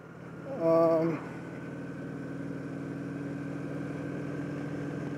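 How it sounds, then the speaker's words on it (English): A motorcycle engine idles steadily on a cloudy day after rain, giving a brief louder rev near the start and then settling into a continuous low drone. "So I'm happy to be back on the motorcycle."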